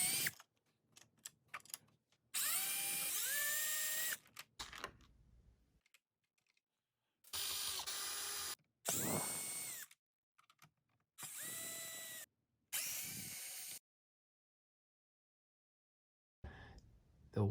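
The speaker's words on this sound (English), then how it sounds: "you need to remove those 10 bolts" Cordless power driver spinning bolts out of the tail section of a 2020 BMW S1000RR motorcycle, several close, loud whirring bursts of a few seconds each, some rising in pitch, separated by silent pauses and faint clicks.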